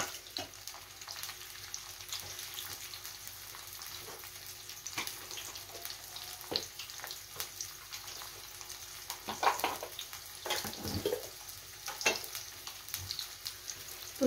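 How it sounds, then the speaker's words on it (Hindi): Potatoes fry in a pan with a continuous low crackling sizzle, dotted with occasional clicks and light scrapes from stirring, moderately close and unbroken by speech. "और इसमें हम फ्राई होने देते हैं आलू को।"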